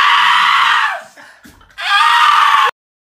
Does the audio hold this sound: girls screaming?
yes